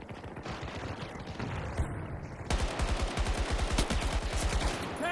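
Automatic weapon fire in Battlefield 2042, sparse at first, then a fast, regular burst of loud shots in the second half, with a muffled game mix underneath.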